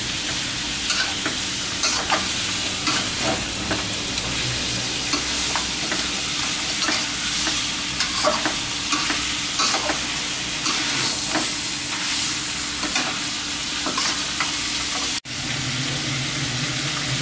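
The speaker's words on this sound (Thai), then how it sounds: "ให้เราผัดนะครับให้พริกแกงกับซี่โครงเนี่ย" Pork ribs stir-fried with red curry paste, a loud, continuous close-up sizzle and hiss with repeated scraping stir strokes, ending in a sudden brief cut near the end.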